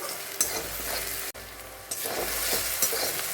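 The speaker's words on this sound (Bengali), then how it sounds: "এটা ভাজা ভাজা হয়ে গেছে" Vegetables fry in a hot pan with a steady, loud sizzle while a spoon stirs them, adding scraping and clattering bursts close by.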